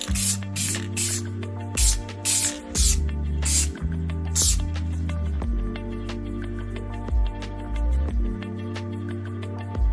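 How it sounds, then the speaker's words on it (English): Short bursts of satin clear coat are sprayed from an aerosol can onto a rusted Mizuno MP32 golf club head. Several sharp hissing puffs come close together early on, over a steady low background hum. "hit it with a little satin clear coat."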